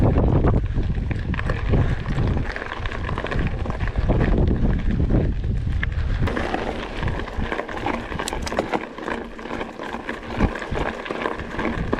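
Strong wind buffeting the microphone on a mountain bike trail near Trieste, a constant loud rumbling roar through the whole stretch that eases slightly in the second half, with no talk.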